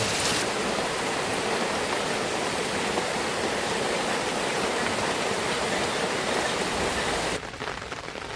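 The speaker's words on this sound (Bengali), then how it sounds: "মুসলধারে বৃষ্টি হচ্ছে একদম এক টানা পুরো আধা ঘন্টা হয়ে গেছে এক টানা বৃষ্টি হচ্ছে" Dense, continuous roar of heavy rain pouring down in a sustained half-hour downpour, loud and unbroken, easing slightly right at the end.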